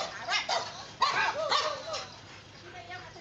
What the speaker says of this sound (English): this is another example of a dog being aggressive